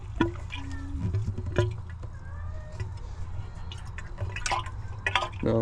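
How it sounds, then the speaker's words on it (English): Coolant gurgles and drips while air is burped from the radiator hoses of a 1990 Ford F350 with the 7.3 IDI diesel, sounding as irregular liquid patters and bubbling against a steady low engine hum. "I'm gonna burp some of these hoses just to get some of the coolant moving."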